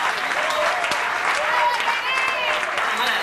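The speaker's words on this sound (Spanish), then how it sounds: "aplauso para este muchacho" A crowd claps steadily and loudly for a few seconds for a musician at a Cuban trova house jam session, a dense wash of applause with some voices mixed in.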